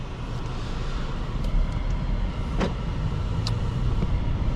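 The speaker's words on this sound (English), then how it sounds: "So as far as my very first initial impressions from driving this Volvo, it's a smooth, comfortable ride." A 2022 Volvo S60 B5 R-Design AWD mild-hybrid sedan on the road, with a steady broadband rumble of road and tyre noise and a faint engine hum inside the cabin, continuous and even, with no talk.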